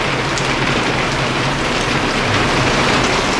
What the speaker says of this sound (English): It's been raining like this for about 15 bloody minutes.